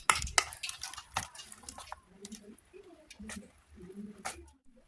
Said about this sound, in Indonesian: Lalu diaduk-aduk sampai tercampur semua.